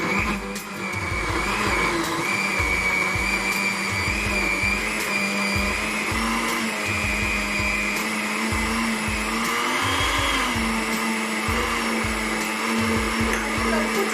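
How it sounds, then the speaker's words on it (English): A kitchen blender whirs steadily as it purees a papaya smoothie, its loud motor drone holding constant for the whole stretch with a rapid, pulsing churn underneath and no talking. "This is our blender, and this is how it works."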